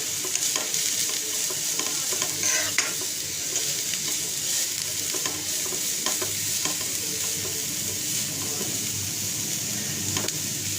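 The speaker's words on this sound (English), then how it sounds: "And now we slightly raise the flame and we give it a quick stir." White cabbage is stir-fried with vermicelli over a raised flame, a continuous bright sizzle with scraping stirs of the utensil against the pan, close and steady with no talk.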